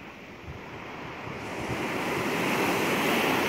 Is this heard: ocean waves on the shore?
yes